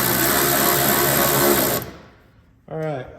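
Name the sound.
power tool driving bolt on Ford Raptor splash guard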